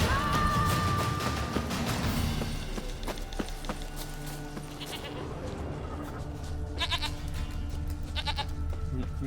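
In The Witcher 3, a goat bleats amid busy game sounds, with a strong bleat early on, later short shaky bleats and hoof clatter, over a dense ambient bed.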